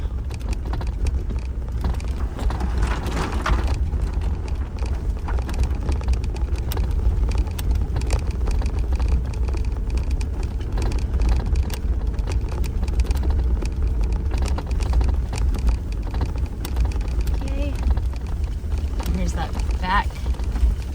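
A Jeep rolls along a farm track on a windswept rural property, its engine a steady low rumble mixed with tire crunch and wind buffeting the microphone, with a person talking over it.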